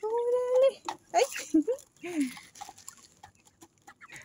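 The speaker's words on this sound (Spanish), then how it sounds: "Comencé por darles su alimento a los pollitos" Chickens and chicks cluck and squawk at feeding time on a home farm, a few loud close calls in the first two seconds, then fainter clucking and bustle; a voice speaks briefly among the birds.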